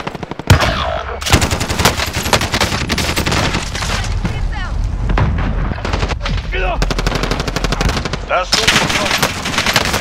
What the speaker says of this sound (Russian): Я под обстрелом.